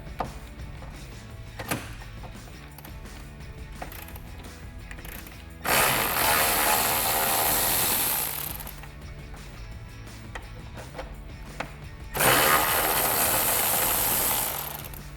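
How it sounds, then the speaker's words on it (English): An 8mm socket on a ratchet backs out bolts along the bottom of a Ford F-150 grille, with two long spells of loud, steady clicking ratcheting separated by quieter handling noises. "These are going to be 8mm, so I'll take an 8mm socket and get these out."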